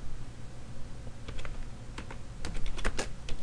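A command being typed on a computer keyboard: a handful of quick, light key clicks in an irregular rhythm, close and fairly quiet, with no speech over them.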